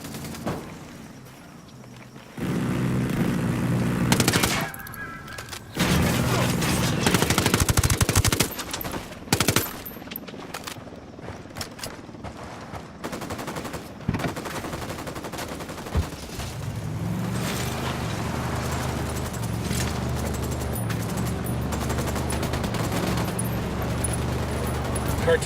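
Automatic and single gunfire bursts ring out in the Ghost Recon Wildlands video game, loud and dense through most of the stretch, with game voices and ambient noise mixed in.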